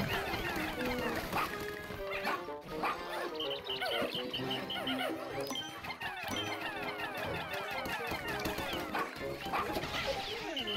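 A dog in the Pikmin 4 video game barks and whines repeatedly amid busy, chattering game sound effects and music, a continuous jumble of yelps lasting several seconds.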